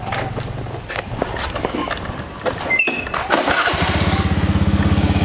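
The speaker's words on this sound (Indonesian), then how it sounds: "Ini motor kalau gak dipakai taruh sini aja, Gong, biar aku enak, Gong." A motorcycle engine sputters and then settles into a loud, steady, rapid putter close by, following a stretch of mixed rustling and footstep-like noise.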